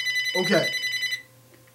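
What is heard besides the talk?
telephone ringing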